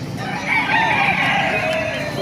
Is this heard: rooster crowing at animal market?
yes